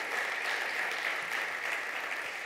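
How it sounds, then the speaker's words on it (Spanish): A church congregation claps loudly and continuously at a Spanish-language sermon, a dense, even wash of applause with no breaks, heard from a short distance. "Dale un fuerte aplauso al Rey de Reyes."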